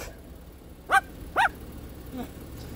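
A 28-year-old cockatoo imitates a dog's bark, giving two short, loud, close barks about half a second apart, followed by a fainter third call, over quiet room noise.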